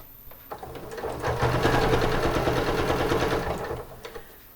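A sewing machine stitches a busk into a corset, running in one steady, close whirring burst that builds, holds for a few seconds and winds down.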